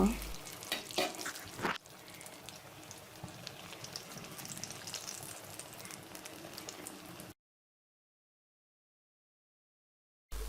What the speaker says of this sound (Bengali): এইভাবেই করে সবগুলো কাবাব ভেজে নেব